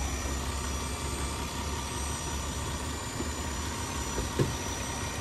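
A 2013 Nissan Altima 3.5-liter V6 idles under the open hood, giving a steady, even low rumble and hum with no voices and only a couple of faint clicks.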